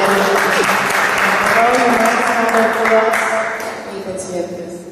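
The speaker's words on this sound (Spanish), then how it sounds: "yo creo un aplauso para todos ustedes que sí se levantaron" Audience applause at a film festival book presentation in San Miguel de Allende, Guanajuato: steady, dense clapping from a room crowd that holds loud throughout, with murmuring voices mixed in and easing slightly toward the end.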